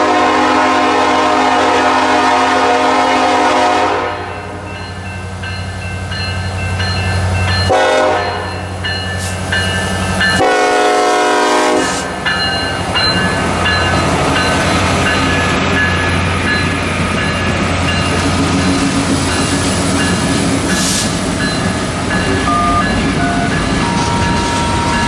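NS 330, a mixed freight train on the main line, blasts its horn in several long, loud chords, then the cars rumble and clatter steadily past up close.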